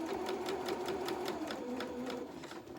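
Domestic sewing machine stitching fabric for a small reversible winter cape, a close, steady rapid needle chatter with a regular pulsing rhythm that slows slightly toward the end.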